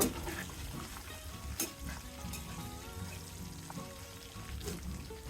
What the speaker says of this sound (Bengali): লম্বা লম্বা করে কুচি করে নিয়েছি কিছুক্ষণ ভেজে নেব